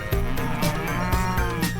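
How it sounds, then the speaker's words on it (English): A cow moos in a long, sustained call, loud and close, with no other sounds or voices around it. "It's a cow. The friendly cow says moo."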